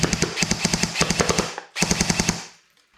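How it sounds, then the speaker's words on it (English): A Zion Arms R15 airsoft rifle fires in binary trigger mode, loud close rapid bursts of sharp shots in quick rhythm, a brief pause, then another burst that trails off into quiet. "every time when we pull a trigger and release it, it shoots."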